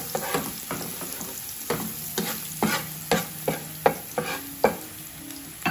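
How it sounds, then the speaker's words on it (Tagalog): Garlic sautés in a pan with a steady sizzle, broken by a dozen or so sharp scraping stirs at a loose, regular rhythm, close and fairly loud with no voices. "Ang bawang ang una lagi sa ating patigisa."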